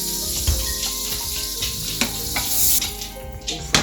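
Butter with a splash of oil sizzling in a hot frying pan, a steady bright crackle with small spits and pops, close and alone without any voice.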